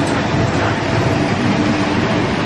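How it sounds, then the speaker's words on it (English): A loud, continuous roar of a monorail train rumbling by close overhead, steady and dense throughout with no pauses. "There's a monorail train going over my head being really loud."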